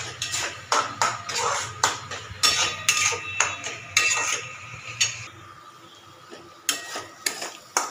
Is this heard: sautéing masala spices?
yes